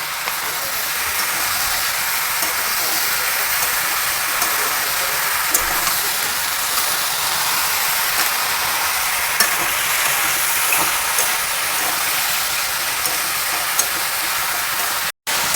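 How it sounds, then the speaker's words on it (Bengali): Loud, continuous frying sizzle of flat beans, onion stalks and potato in a pan close up, steady hiss throughout with faint scraping, cutting off briefly near the end; no speech. "এবার এটাকে আমি ভাজতে থাকবো"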